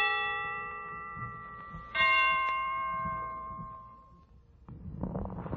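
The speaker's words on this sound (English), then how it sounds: "The Christmas bells can ring anytime they're ready." Christmas bells ring out on a 1942 Kraft Music Hall radio broadcast, several sustained bell strikes with long ringing tones that swell, fade, then give way to a softer burst of sound at the end.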